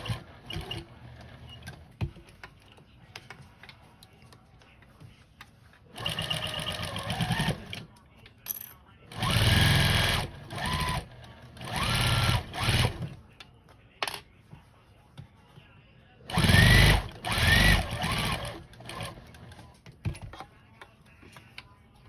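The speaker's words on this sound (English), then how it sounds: "I like to back stitch over the darts" A sewing machine back stitches over the darts of a fabric bowl cozy with a slightly dull needle, running in several short loud bursts separated by quiet pauses.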